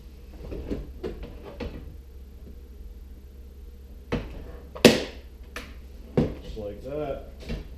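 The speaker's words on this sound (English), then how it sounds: "This is a soap dispenser door. So when this activates, it trips open the door." A Maytag Quiet Series MD85600AWW dishwasher's soap dispenser door trips open with a sharp click and snap near the five-second mark, close by and clear, amid quiet background speech and handling noises.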